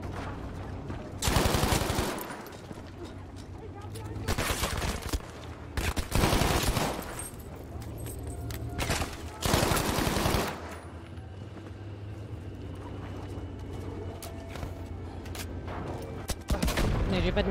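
Gunfire in the World War II shooter Battlefield V, with several loud bursts of automatic fire broken up by quieter gaps of battle ambience, and occasional talk in between.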